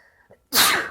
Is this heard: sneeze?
yes